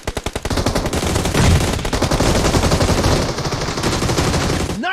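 Rapid automatic gunfire from a mobile battle-royale shooter game, loud and close, opening with a few distinct shots and then settling into sustained dense bursts with no talk over it.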